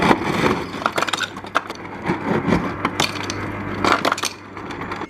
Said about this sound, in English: And then I take cubed ice.